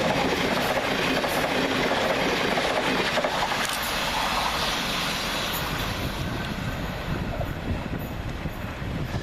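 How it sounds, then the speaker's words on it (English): Class 700 train passing through Anerley station, a loud sustained rush of wheels and rail noise with clattering, close by and fading slightly toward the end, with no voices. "Again taking us by surprise is 700-116, working 9J32 from Horsham to Peterborough."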